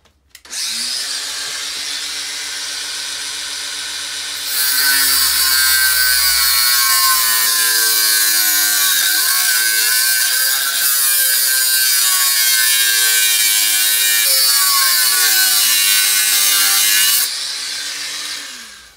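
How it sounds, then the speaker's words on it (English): An angle grinder fitted with a 1mm cutting disc slices through a motorcycle chain on a KTM 690 Enduro R, a loud steady high-pitched whine that spins up, bears down into a harsher screaming cut for about twelve seconds, then eases back near the end. "I'm going to use the old angle grinder to cut this chain off"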